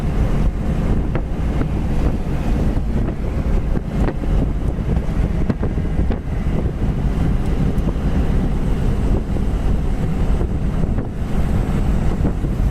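Red 1973 Cadillac convertible with a four-barrel carburetor cruising at 65 mph, heard as loud, steady rushing wind and road roar with the top down, with no distinct engine note.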